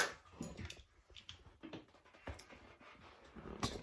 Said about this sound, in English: Look at my cute doggy over there.